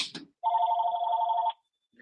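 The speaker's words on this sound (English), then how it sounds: "of course, this phone would ring right now." Landline home phone rings once with a steady trilling electronic tone lasting about a second, close and clear, followed by a brief faint noise.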